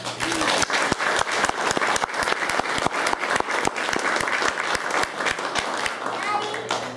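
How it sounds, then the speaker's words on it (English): Audience applause at a community forum, a steady patter of many hands with sharp individual claps standing out nearby, continuing for several seconds under a low hum. "Should we go ahead and do a round of applause for each person now?"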